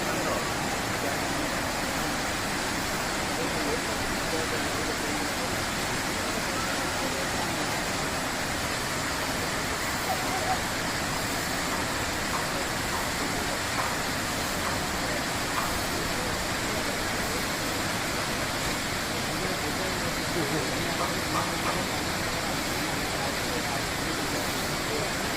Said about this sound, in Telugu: ఈ జలపాతం చిత్తార్ నదిపై ఏర్పడింది.